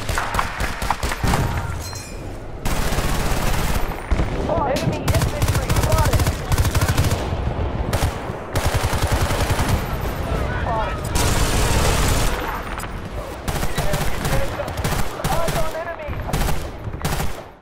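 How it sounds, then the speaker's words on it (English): Gunfire from the video game Bad Company 2, loud, dense sustained bursts of automatic fire with brief pauses between them, filling the whole stretch with heavy, booming shots. "While in Bad Company 2, the game gave every single gun an extra boost."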